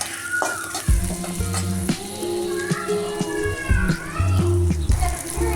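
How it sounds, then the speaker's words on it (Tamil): Mustard seeds sauté in a pan over steady crackling sizzle, with loud spatula scrapes and knocks against the pan coming in bursts up close. "கடுகு போட்டுக்கலாம். நல்லா வதக்கி விட்டுக்கோங்க."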